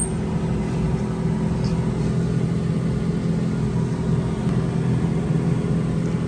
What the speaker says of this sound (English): Sounds like it's working in here. It's blowing out of the vents.